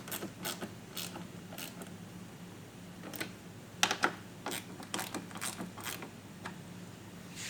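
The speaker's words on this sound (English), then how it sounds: "fully tighten all 3 mount points down" Mud flap mounting bolts on a 2014-2020 Nissan Rogue are tightened down with a ratcheting tool, giving irregular bursts of crisp clicking and creaking, close and fairly quiet, over a faint steady background hum.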